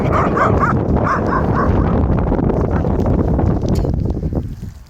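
Puppies yip and bark in quick high-pitched bursts early on, over steady rustling and wind noise that fades out toward the end.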